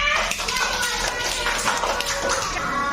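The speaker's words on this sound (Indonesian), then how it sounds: "Ayo tepuk tangannya." Children in a classroom clap their hands in a dense, rapid burst of taps, with young voices chattering underneath throughout.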